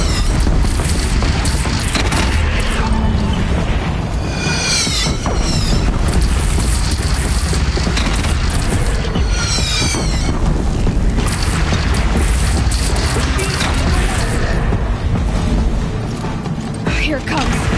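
Cannon firing in Horizon Zero Dawn amid dense battle noise: repeated deep booms and clanking mechanisms with whooshing projectiles, loud and continuous throughout.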